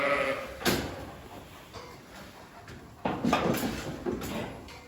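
Lambs bleating in a flock as a sheepdog pushes the last ones toward weighing, with intermittent bleats near and far over shuffling movement and rustling.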